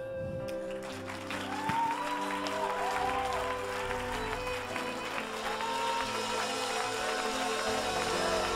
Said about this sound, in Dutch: Jezus een geweldig applaus geven.